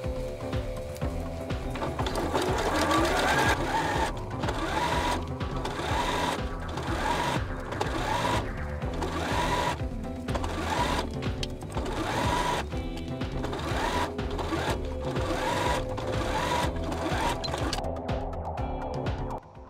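Up close, a sewing machine understitches the facing of a knit top, its quick mechanical whir running almost continuously in short repeated bursts, with no voices.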